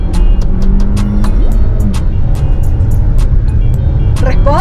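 A 2022 Volkswagen Taos accelerates with a steady, loud engine drone heard from inside the cabin, the pitch rising as it gains speed, accompanied by clicks and rattles with no talking over it.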